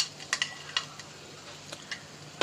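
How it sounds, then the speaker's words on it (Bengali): A spoon stirs sugar into a banana flower and prawn curry in a pan, with soft scattered scraping taps over a faint steady sizzle, close and quiet. "অল্প অল্প, ভালো করে মিশ্রণ করে নেব"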